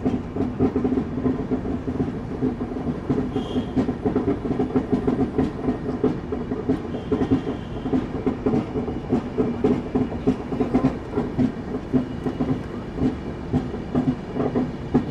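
A moving passenger train on the Kolkata–Varanasi route, just departed Chittaranjan station, clatters on the rails. The clickety-clack and rumble hold steady and continuous at moderate volume, with no talking.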